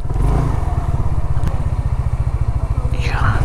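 A motorcycle engine idles close by with a steady rapid low throb, some clatter and knocks over it, while people talk nearby.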